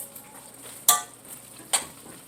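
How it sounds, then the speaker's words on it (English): Cheeseburger mac and cheese being stirred in a pot, with two sharp clinks of a utensil against the pot over a quiet background. "mix it all up and everything like that"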